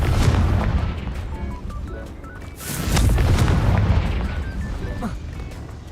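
Confringo spell blast in the Hogwarts Legacy video game, a loud rumbling explosion swelling near the middle over a continuous noisy battle bed with faint musical tones.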